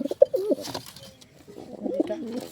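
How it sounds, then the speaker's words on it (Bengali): Kagoji pigeon, a domestic fancy breed, cooing up close in low, throaty bursts: a short run of coos, a pause, then another cooing phrase. "এই পায়রাটা, এটা কাগজি, অসাধারণ কোয়ালিটি, খুব দেখতে সুন্দর"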